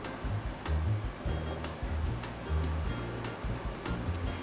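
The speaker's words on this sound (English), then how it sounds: "she uses this special dough kneading machine," A special Sardinian dough kneading machine works dough for pane carasau through its rollers, giving a regular, rhythmic low thumping and rumbling that repeats close by with no talking.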